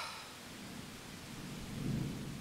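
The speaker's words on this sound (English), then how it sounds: "Well, it's raining." Rain hisses steadily while a low rumble of thunder swells toward the end, faint and distant, with no voices.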